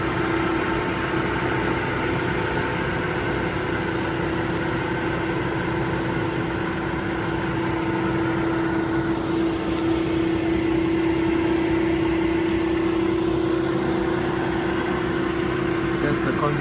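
An Atlas Copco oil-free screw compressor with an integrated air dryer starting up and building pressure toward 8.5 bar, giving a steady, loud mechanical drone with a constant hum that runs unbroken throughout in an indoor machine room.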